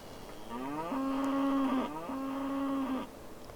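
Two drawn-out cattle moos from the video game Railroads Online, sounding one after another with a brief pause between them, moderately loud and clear over quiet background.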